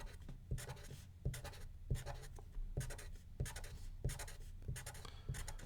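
Pen or pencil writing on paper, steady scratching strokes broken into short repeated bursts as characters are jotted down one after another, close and fairly quiet with no talking.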